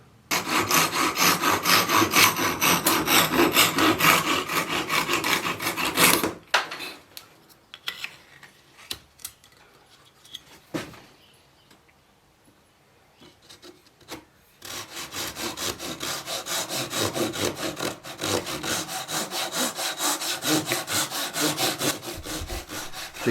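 Small glued wooden sides of a hexagonal jewellery box are trimmed with a saw, giving steady rasping strokes, loud and close, then a quiet pause with a few knocks before the sawing resumes.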